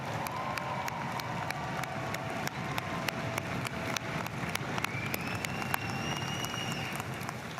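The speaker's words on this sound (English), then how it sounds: "So clap it up for everybody." An audience at a university business school's undergraduate commencement claps in a dense, steady wash of applause, heard from a distance and fairly faint, with scattered sharper claps standing out.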